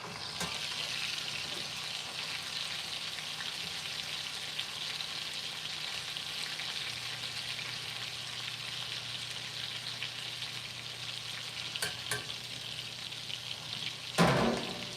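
A steak sizzling and frying in a hot pan, a loud, steady crackling hiss running throughout with faint stirring and a brief clatter near the end, no talking.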